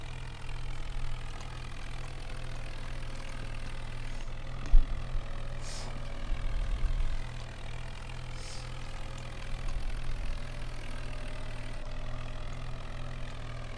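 Tractor engine idling steadily in the Farming Simulator 19 game with an Indian mod, a constant low hum with a few faint clunks partway through and no talk.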